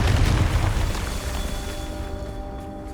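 A booming Confringo blasting spell explosion in Hogwarts Legacy, one heavy low burst up front that rolls off into a decaying rumble over a few seconds.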